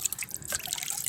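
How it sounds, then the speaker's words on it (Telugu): Leftover curry mixed with water being poured out to feed plants: close liquid splashing and dripping, irregular small gurgles and trickles across a brief second. "కర్రీని వాటర్లో వేసేసి ఇలాగా"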